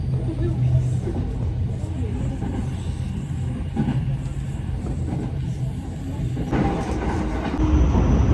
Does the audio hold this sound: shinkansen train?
yes